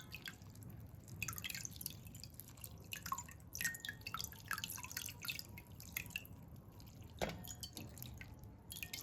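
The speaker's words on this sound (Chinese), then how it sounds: "再用清水多冲洗2次" Food ingredients for a fat-cutting tea are rinsed under running water, a steady close splashing trickle with irregular drips and small splatters, heard alone.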